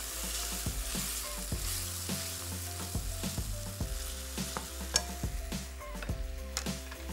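Food roasts in a pan with a continuous soft sizzle while a utensil stirs and scrapes it in repeated knocks at a fairly steady pace, close but quiet, under a low steady hum, with no speech.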